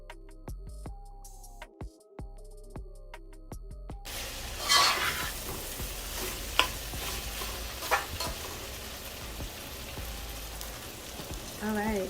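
Rice is stirred in a pot with tomato, pepper, onion and sausage, giving a scraping, rustling stir over a soft sizzle. It is close and moderately loud and follows a few seconds of tonal music.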